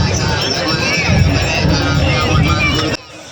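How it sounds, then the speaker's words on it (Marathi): A dense, loud crowd gathered for a Ganpati celebration, babble and shouting mixed with DJ music throbbing underneath, continuous until it drops off abruptly near the end. "खूप आवाज येत होता डी जे वाजत होता"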